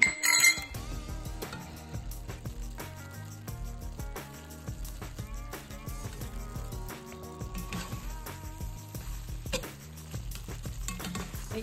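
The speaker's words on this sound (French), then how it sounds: "Je vais ajouter ma chapelure. Et mélanger ensemble." A spoon stirs breadcrumbs into a simmering creton pork spread in a pot, giving quiet scraping and clinking against the pan with a soft sizzle underneath. Irregular, close strokes repeat steadily with no talking.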